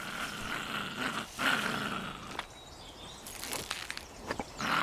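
A dog growls in a survival video game, low rumbling snarls in several bursts mixed with scuffling and other game sounds, fairly close and moderately loud.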